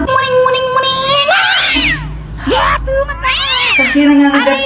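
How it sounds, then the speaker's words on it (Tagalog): A cat meows loudly and close by, giving several drawn-out, rising and falling meows in a row with brief gaps between them. "May pusa pala kayo? Oo, pusa namin yan, pero huwag mo nga hawakan."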